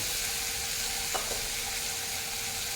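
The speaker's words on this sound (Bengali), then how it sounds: "আমি এখন ভেজে রাখা আলুগুলো দিয়ে দেবো।" Fried potatoes go into a pan of sizzling tomato masala for an egg jhalda curry, giving a steady, close hiss of frying with a brief clink of the utensil near the middle.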